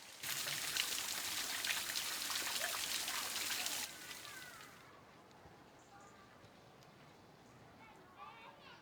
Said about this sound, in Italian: Adesso vediamo la bellissima e pur piccola cascata.